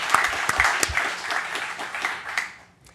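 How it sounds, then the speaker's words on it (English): An audience at a conference talk applauds, a loud, dense burst of clapping that fades out near the end. "Just want to give them another big round of applause."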